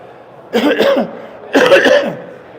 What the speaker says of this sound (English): I've got a cough all the way through this thing today.